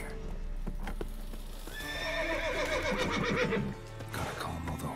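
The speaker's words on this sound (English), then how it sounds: "Gotta calm all the horses before they wake the guards." Horses neigh and whinny in The Witcher 3, their loud, close cries rising and falling over a steady clip-clop of hooves, with no talking.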